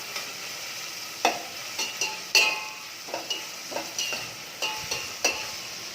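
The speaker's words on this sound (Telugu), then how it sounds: "ఆనియన్స్, కరివేపాకు, వెల్లుల్లి బాగా ఫ్రై అవ్వాలి ఆయిల్లో." Onions, curry leaves and garlic frying in oil in a pan, a steady close sizzle broken by about a dozen sharp scrapes and clacks of a spatula stirring, with no voices.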